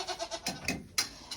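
Several goats bleat in a cold farm barn during a winter storm, a quick run of short wavering calls close by, with no talking.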